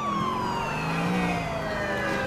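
A police car siren in GTA IV wails continuously and loudly with sliding tones, heard close and alone.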